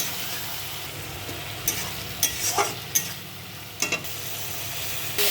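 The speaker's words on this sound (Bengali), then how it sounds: "মশলাটাকে চালিয়ে দেবো। তেল ছেড়ে দিয়েছে।" Spice masala frying in oil with a soft, continuous low sizzle, broken by a few sharper scraping clicks as it is stirred in the pan, fairly quiet.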